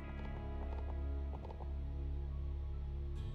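Horse hooves clip-clop in a short rhythmic run in the King's Bounty: The Legend video game, a steady game-world sound, fairly quiet over a low background hum, with no one speaking.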